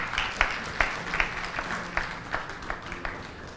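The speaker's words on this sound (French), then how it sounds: "Merci d'applaudir pour Kurt, s'il vous plaît." Audience applause for a contestant on a televised a cappella singing competition stage, a dense steady wash of clapping with a few louder near claps standing out rhythmically throughout.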